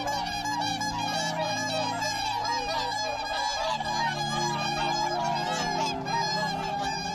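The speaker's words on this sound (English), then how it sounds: "the whooper swan can be found laying its eggs, tending to its young and practicing its distinctive honking call" Whooper swans give a continuous chorus of overlapping, nasal honking calls, steady and fairly close, with no pauses across the stretch.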